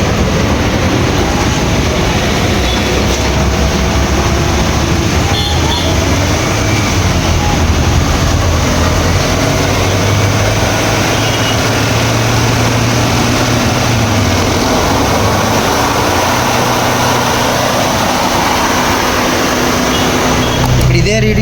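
A Hyundai Santro Xing raised on a jack with its wheels spinning at 100 km/h during a wheel bearing check, giving a steady, loud, droning roar with a low hum that holds for the whole stretch.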